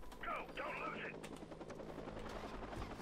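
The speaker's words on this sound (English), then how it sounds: "Now, what about these helicopters?" Helicopters in the video game Watch Dogs, heard as a fairly loud steady rotor whir with mechanical clatter and brief sharp bursts, while a game voice speaks over it.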